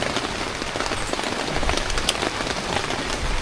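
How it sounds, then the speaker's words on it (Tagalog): Steady rain pattering on a surface, a dense even hiss with scattered droplet ticks throughout; no voices. "Patapos umuulan na."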